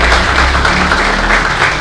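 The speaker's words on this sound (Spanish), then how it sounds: "¿Cuánto le dan un aplauso al Señor?" A church congregation applauds steadily during a Spanish-language sermon, a dense, continuous wash of many hands clapping at once, loud and close, sustained without a break.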